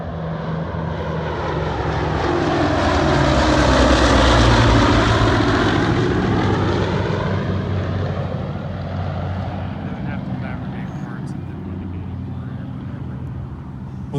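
The B-29 Superfortress bomber Doc runs its piston engines with a loud propeller drone that swells to a peak, then eases slightly and holds steady, with no talk over it.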